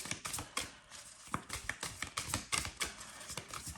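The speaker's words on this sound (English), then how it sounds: "Let's shuffle the cards back here so you can look at the cards." Tarot cards being shuffled by hand, giving a rapid run of soft crisp riffling taps and flicks that continues throughout at close range, with no talking.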